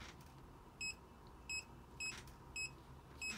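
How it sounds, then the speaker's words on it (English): An electronic square deadbolt keypad beeping as a code is entered, five short sharp tones spaced about half a second apart, close and clear over a quiet room. "Oops, beeped at me, it's not ready yet."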